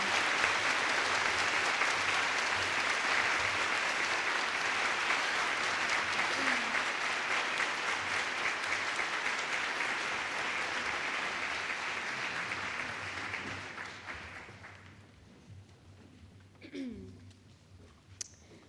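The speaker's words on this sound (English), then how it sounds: "Can we please have a round of applause for all of our honorees and alumni distinction?" A sustained round of applause from a crowd, steady clapping that gradually fades out near the end, followed by faint room noise.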